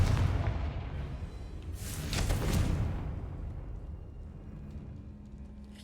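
A Confringo blasting spell bursts in Hogwarts Legacy, a loud rumbling explosion that swells, peaks in a bright crackling blast, then slowly fades into a low tail.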